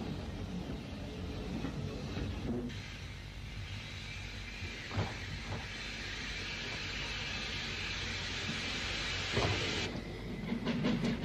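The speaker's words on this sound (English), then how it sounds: "The train arrives at Bilth Wells" Steam train on a Welsh railway line arriving at Builth Wells station, a steady rolling rumble and hiss with faint rhythmic clicks of wheels over rail joints, no voices.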